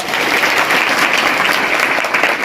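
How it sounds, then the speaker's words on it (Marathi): A devotional gathering's audience breaks into loud, dense applause, continuous close clapping from many hands filling the whole moment without any speech. "जोरदार टाळी वाजवा."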